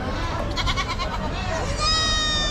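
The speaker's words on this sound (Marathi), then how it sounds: "आपल्याकडे काठेवाडी शेळ्या असतात ना" Kathiawadi goats bleat at a large goat and sheep market in Chakan, Maharashtra, with loud, close, wavering cries rising over a dense crowd murmur of voices.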